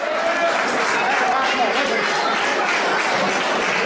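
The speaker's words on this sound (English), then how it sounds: "Masters of Pain crowd gives it up again." A wrestling crowd at a deathmatch event applauds and cheers steadily, a dense wash of clapping and voices with no quiet gaps.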